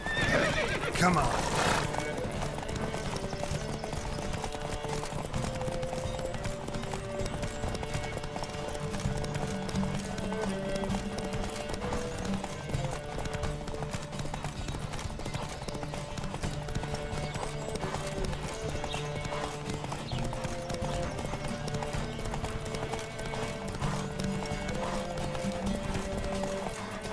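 Horses gallop in a race in The Witcher 3 on the Zerrikanian Bay, with continuous rapid hoofbeats, neighing near the start and game music throughout.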